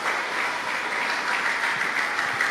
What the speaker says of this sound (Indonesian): Tepuk tangan untuk keluarga besar NU Kota Batam.